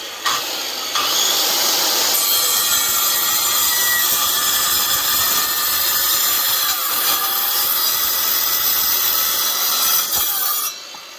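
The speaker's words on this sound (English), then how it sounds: "Just use a circular saw because we can trim it at the end inside." A circular saw rips through an oak board being cut down for a threshold, with a steady, loud, sustained whine that holds for about ten seconds before it cuts off abruptly.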